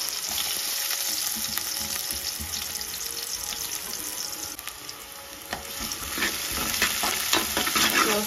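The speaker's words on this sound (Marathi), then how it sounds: "आता आपण कांदे घालूया फोडणीक." Sliced onions fry in hot oil in a pan as the tempering for a Malwani clam curry, giving a loud, continuous sizzle with occasional stirring scrapes and no talking.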